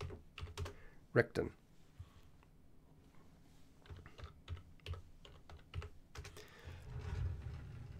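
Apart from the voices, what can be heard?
typing on a computer keyboard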